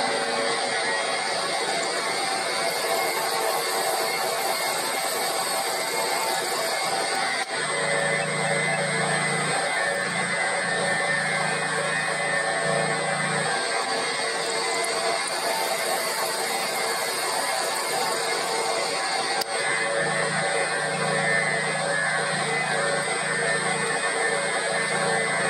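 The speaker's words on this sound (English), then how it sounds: "So I've now got to counterbore them" A machine counterbores holes for cap head screws during a Reva G-Wiz electric car motor transplant, giving a steady, loud mechanical whine and hum that runs throughout, with a lower rumbling band joining in at intervals.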